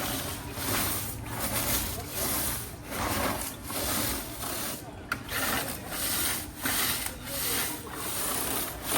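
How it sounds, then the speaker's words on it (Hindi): Air cooler scrubbed by hand with detergent powder in a rural home, with rhythmic back-and-forth rubbing strokes, close and steady, while someone talks in the background. "ये देखना आपने मैं कैसे इसकी रगड़ाई करती हूँ, ऐसे।"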